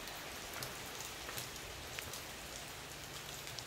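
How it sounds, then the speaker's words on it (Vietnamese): Steady rain falls outdoors by a rambutan tree, a dense, even hiss with scattered louder drops and no voices. "thời tiết bây giờ bắt đầu đã có mưa rồi"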